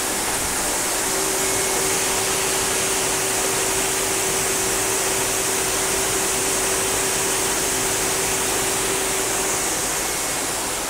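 Grain brushing machine running steadily in a farm flour mill, a loud continuous whooshing hum with a faint steady tone, unbroken throughout.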